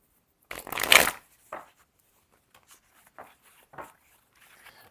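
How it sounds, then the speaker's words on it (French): Tarot or oracle cards being shuffled by hand: a loud, dense riffle of card edges lasting about half a second, followed by several soft, scattered taps and slides as the deck is handled. "Alors, je vais mélanger les cartes."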